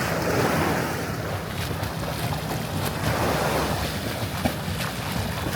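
Waves wash steadily onto JBR beach at Dubai Marina, a continuous surf roar mixed with heavy wind buffeting the microphone, with no voices.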